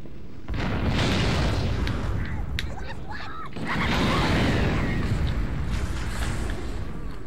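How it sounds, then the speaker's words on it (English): A heavy explosion in the video game Halo, booming loud and close in two long rumbling surges over several seconds, with a brief quieter gap between them. "Forgot about that explosion."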